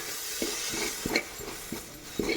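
Chili powder, pepper and coriander powder being stirred in a pan, a soft scraping hiss with several distinct spoon-against-pan knocks spaced irregularly, fairly quiet, with no talking.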